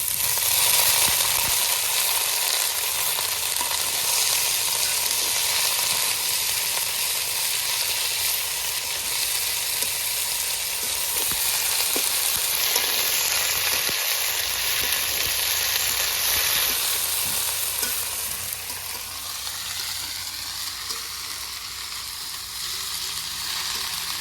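Drumstick (moringa) leaves fry in a hot pan in a village kitchen, giving a loud, steady sizzle that carries on without a break and softens a little toward the end, with no voices.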